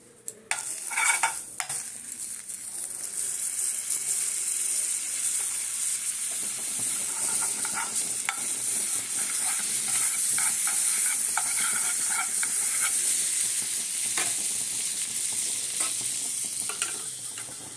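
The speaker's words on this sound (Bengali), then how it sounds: "এটা বাটার দেবো" Butter sizzles loudly in a pan while food is stirred through it, with a dense continuous crackle, repeated scraping and clinking of a utensil, and a few sharper knocks near the start.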